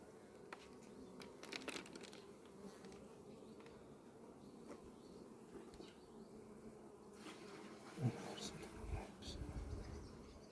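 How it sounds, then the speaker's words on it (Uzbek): Honey bees buzz in a low, steady drone around an open hive frame while a bee colony is split, with a few soft handling knocks and a brief louder bump near the end. "Mana bir ramka yosh arini silkib beramiz."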